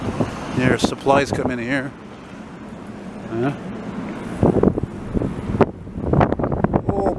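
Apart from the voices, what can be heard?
strong wind blowing into the microphone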